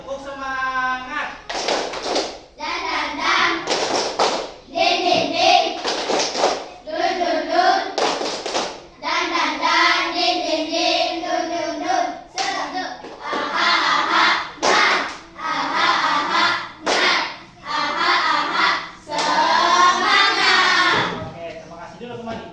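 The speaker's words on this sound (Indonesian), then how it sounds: "Oke, tepuk semangat." A class of children performing a rhythmic spirit clap in a classroom, bursts of group clapping in patterned beats mixed with chanting voices, loud and close throughout.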